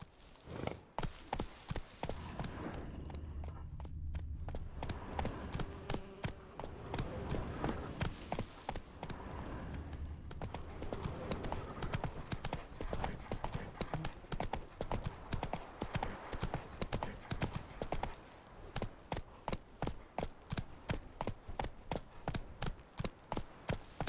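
Horse hooves galloping at a fast, steady clip-clop in The Witcher 3, continuous and close for the whole stretch against a dense game soundscape.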